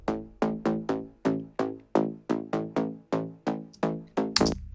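A bass layer spread to full stereo width plays a steady run of about a dozen plucked notes, each with a sharp attack and quick decay, close and loud, ending in a brief noisy burst.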